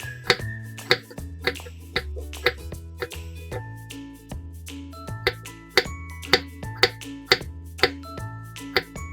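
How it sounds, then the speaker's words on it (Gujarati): A knife finely chopping garlic cloves on a board while making vegetable Maggi noodles, sharp evenly spaced chops repeating steadily and close up over tonal background music. "લસણની કળીઓને ઝીણી ઝીણી કાપી લઈશું"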